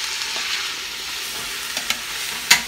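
Mirepoix vegetables sauté in a Dutch oven with a steady, bright sizzle and a few clicks of stirring. A sharper clatter of the utensil lands near the end.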